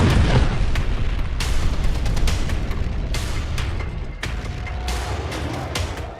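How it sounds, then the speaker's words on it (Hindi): A drone strike explodes in Tel Aviv, and a loud roar of blast and rumbling debris fills the stretch, broken by repeated sharp cracks and bangs, with no voices. "फिर तेल अवीव में इस ड्रोन ने अपने टारगेट पर बड़ा धमाका किया"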